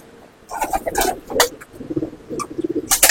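Racing homer pigeons in a home loft in Kolkata, giving soft, close, throaty coos that overlap with rustling and a few sharper flutters or clicks.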